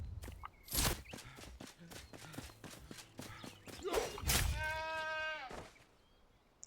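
Goats in the game Enshrouded bleat with a long, wavering call near the end, after a stretch of footsteps and scuffing movement sounds, heard up close with no talking.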